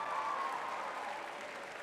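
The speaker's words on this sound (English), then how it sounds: "Give yourself a round of applause." Audience applause at a school wish-granting assembly, a brief, soft, distant wash of clapping from a crowd.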